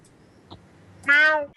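A man imitates a cat's meow in a deep voice, giving one drawn-out, harmonic call that is loud and close after a brief quiet lead-in.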